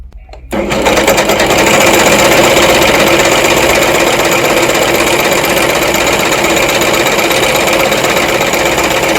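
A Brother CV3550 coverstitch machine starts up and sews steadily, a loud, close, continuous rapid mechanical whir with fast needle chatter that holds an even pace to the end.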